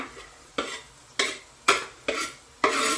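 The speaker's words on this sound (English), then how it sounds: "you want to add all that to your onions and you stir" Ginger, chilli, cinnamon sticks and cardamom pods are stirred into onions frying for a pumpkin chutney, five rhythmic scraping strokes about half a second apart over a soft, steady sizzle, close and clear.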